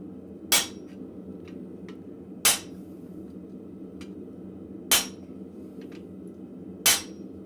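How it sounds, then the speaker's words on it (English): A hammer strikes a steel chisel in a blacksmith forge: four loud, ringing metallic blows about two seconds apart, with faint light taps between them. "every time I hit, I'm lifting up the chisel and double checking to make sure I'm hitting where I want to"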